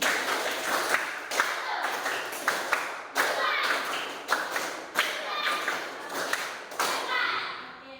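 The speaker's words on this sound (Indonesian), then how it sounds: "Coba tepuk 5 sampai 4 kali." A fourth-grade primary-school class claps hands in a counted pattern, sharp group claps in short rhythmic bursts with brief pauses between them and light voices in the room.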